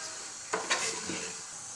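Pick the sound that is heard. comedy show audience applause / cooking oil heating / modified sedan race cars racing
cooking oil heating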